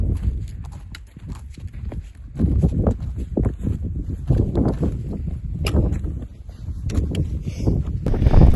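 Strong gusty wind buffets a hiker on a steep mountain path toward Green Gable, a loud rumbling roar that surges and eases, with crunchy footsteps and brief voices mixed in.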